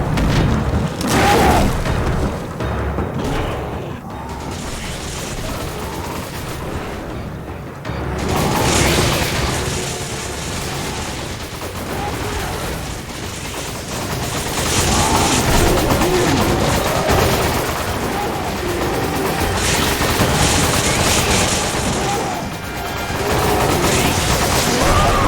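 Gunfire and booming explosions from Resident Evil 5 combat, a long dense stretch of shots and heavy blasts that rise and fall in loud waves with no voices.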